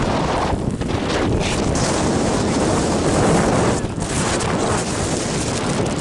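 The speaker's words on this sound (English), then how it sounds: "that's some of the strongest wind I've ever experienced" Strong wind roars and buffets continuously on a snowy day, loud and steady with brief dips, a dense rushing noise with no voices.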